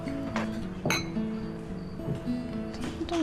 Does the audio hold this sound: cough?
no